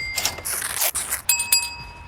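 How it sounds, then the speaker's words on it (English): A bicycle bell rings during a pre-ride check, with a few bright metallic dings that linger and layer over light scraping and handling noise nearby. "It has a bell."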